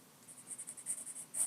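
Pen tip scratching across paper in a run of short strokes, sketching arcs and straight lines for a Wonder Woman drawing; soft, close, rhythmic scrapes with brief pauses between marks, ending in a slightly louder stroke.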